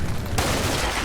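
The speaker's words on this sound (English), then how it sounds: "Just small arms fire takes one out" Small arms fire in Combat Mission: Cold War, a burst of close gunfire that cuts in sharply partway through and continues as a loud, dense rattle.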